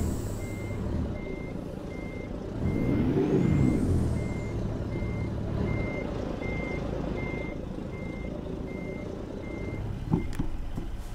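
A heavy truck in American Truck Simulator backs up, its reversing alarm beeping in a steady, evenly spaced pattern over a low engine drone, with a brief air-brake hiss near the end.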